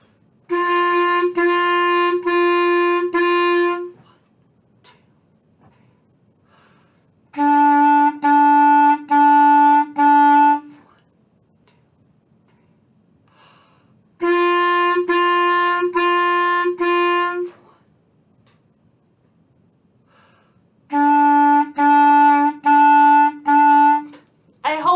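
Clarinet playing two alternating notes, so and mi, in four clear phrases separated by silences, each phrase a few steady sustained tones, loud and alone with no talking.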